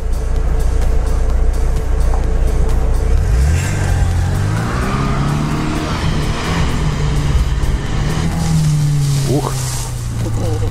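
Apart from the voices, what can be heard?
Lada Niva 4x4 engine revving, rear wheel spinning in mud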